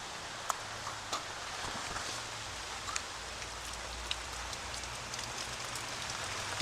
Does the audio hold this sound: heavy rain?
yes